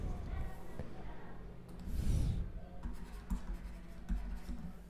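Marker or chalk writing on a board during a geometry lesson on lines and angles, with soft scratchy strokes heard close under a man's explanatory speech.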